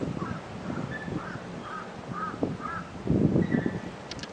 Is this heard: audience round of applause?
no